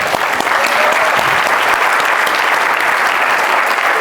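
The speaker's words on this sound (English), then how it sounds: "Giving them a big round of applause." Loud, dense applause from the audience at a UCI Athletics Hall of Fame ceremony, many hands clapping in a sustained roar that holds steady for four seconds.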